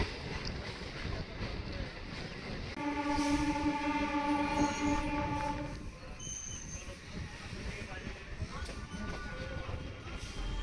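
A train passes near Kolkata railway station by the riverside, a loud rumbling roar with a sustained horn-like tonal blare for a couple of seconds, amid steady outdoor wind and ambient noise.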